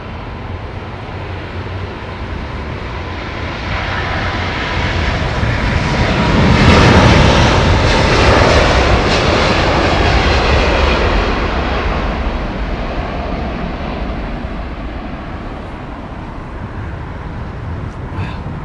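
A jet airliner departs from London Heathrow Airport, its broad engine roar swelling to a peak mid-clip and then slowly fading, heard from a distance and steady throughout.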